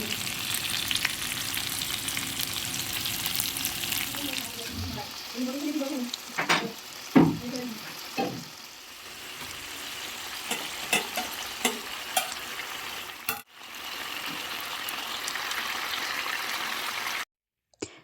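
Chicken pieces for chicken tikka masala fry in hot oil with a loud, continuous sizzle, broken by occasional stirring clatter and bubbling bursts before the frying resumes steadily and cuts off abruptly at the end.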